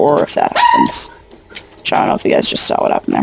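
A pet dog lets out a brief bark or yip near a gamer's microphone, close and sharp, mixed in among steady talking.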